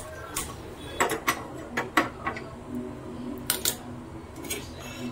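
A spoon stirs rava batter with salt and Eno in a bowl, giving irregular clinks and scraping taps against the bowl, some in quick pairs, with a soft background hum.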